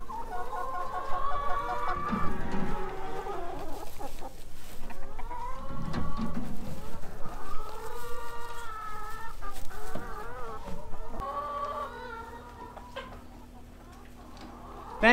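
Chickens on a farm cluck and squawk throughout, many birds close by and overlapping in a busy barnyard chorus with a low machine hum in the background.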